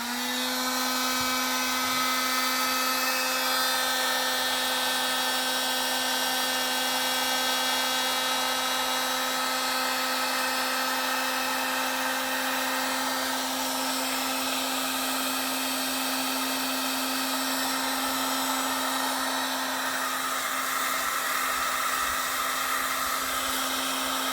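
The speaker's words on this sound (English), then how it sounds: "Be a little bit noisy with the heat gun." A heat gun runs steadily while a capacitor is removed from a Zenith 1000Z radio chassis, a loud constant whining blower hum with a strong tonal drone, unbroken for the whole stretch.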